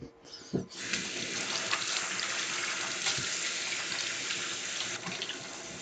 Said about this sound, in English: Let me rinse these potatoes real quick.